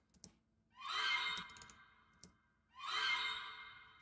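Two atonal woodwind rips in an orchestral action-cue transition, each a rising, smeared flourish that swells and fades about two seconds apart, with brief clicks between them.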